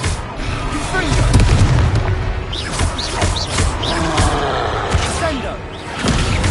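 Confringo fire spell explosion in the Hogwarts Legacy video game: a booming blast within a dense, continuous mix of game sound and voices, loud throughout.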